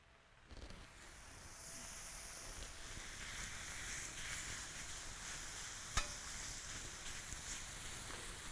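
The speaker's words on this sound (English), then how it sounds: "Now I'm going to start cooking the beef." Beef steak sizzling on an outdoor MoJoe griddle for Philly cheese steaks, a steady broad hiss that builds after a moment and holds at moderate level, with one brief sharp tick partway through.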